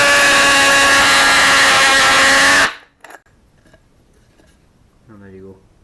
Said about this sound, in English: you just drill and push down as you normally would